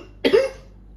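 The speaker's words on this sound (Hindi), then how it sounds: "खांसी बहुत हो रही है" A single short, sharp cough close by, loud against a quiet room with a faint hum.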